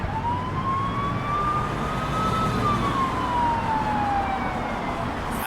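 A police siren wails within a song, a single tone slowly climbing and then sliding back down, held over a dense, steady wash of background noise.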